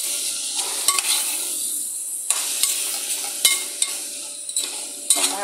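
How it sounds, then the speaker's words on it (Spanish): Soy meat frying with garlic, onion and vegetables in a pan, a steady close sizzle broken by several sharp scrapes and clinks of a utensil stirring against the pan, no talking. "Ahora sí voy a echar el carne. Y lo revuelvo."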